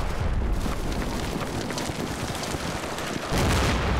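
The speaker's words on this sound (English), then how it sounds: "Ah, there's some big shells come in." Artillery shells exploding in Combat Mission: Battle for Normandy, a World War II strategy game, with a continuous loud rumble of blasts and debris and a heavier impact near the end.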